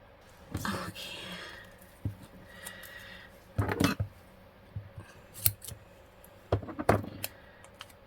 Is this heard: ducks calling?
no